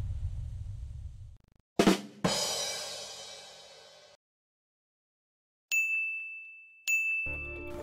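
A notification bell sound effect gives two bright, ringing dings about a second apart, each decaying slowly, after a few brief whooshing and rustling noises.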